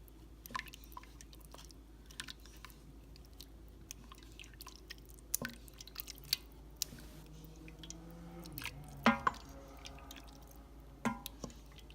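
Braising liquid is poured over fish in an Instant Pot, giving soft wet drips and splashes close by, with a brief louder pour and spatter near the end and small clicks scattered throughout.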